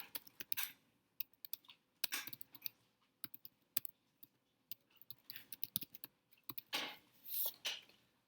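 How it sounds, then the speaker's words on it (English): Code being typed on a computer keyboard: quick, irregular bursts of close, crisp key clicks with short pauses between, quiet and alone. "So kind of learn as a default just to type in import numpy as np."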